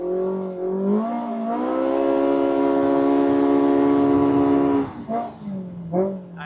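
A Polaris RZR Pro R side-by-side engine breathing through an MBRP slip-on muffler climbs in a loud, deep revving drone, holds it steadily for several seconds, then drops off with a couple of short throttle blips at the end.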